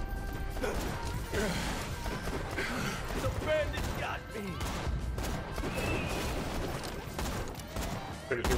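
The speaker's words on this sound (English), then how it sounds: "I just hear my gunfire there for a minute." Gunfire and explosions in the video game Borderlands 2 form a dense, continuous barrage of cracks and crashes with chaotic game effects, while a person talks over them.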